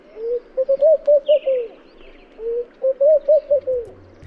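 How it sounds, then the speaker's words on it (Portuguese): A laughing dove from Africa calls in two bouts of rapid, rising-and-falling cooing notes that bubble like soft laughter, clear and fairly close, with a faint higher chirp from another bird between them. "Pomba risonha, que vive na África, também canta de forma parecida."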